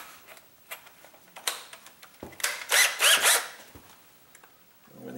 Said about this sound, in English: I guess I'll try using the drill with this first